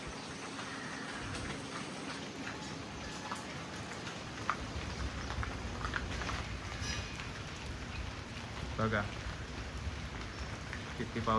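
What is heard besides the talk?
heavy rain falling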